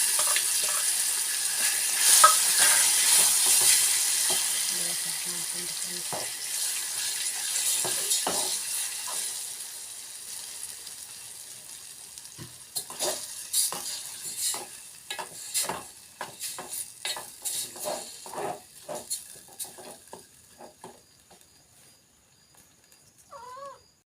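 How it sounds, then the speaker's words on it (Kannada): Hot tempering with curry leaves sizzles loudly in a pan for a mango dish, a steady hiss that fades after several seconds into scattered crackles and clinks of stirring. "ಈಗ ನೋಡ್ರಿ ಒಗ್ಗರಣೆಗೆ ಇದನ್ನು ಹಾಕೋತೀನಿ ರೀ."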